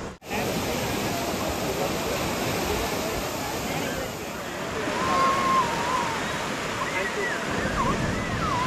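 Sea waves roll steadily onto Radhanagar beach on Havelock (Swaraj Dweep), Andaman, near sunset, a continuous broad rushing surf with one swell building slightly louder midway.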